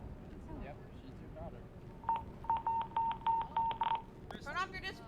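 Phone ringtone in a GTA roleplay game: a short electronic melody of evenly spaced bright tones, a dozen or so quick pulses over about two seconds, between stretches of nearby talk.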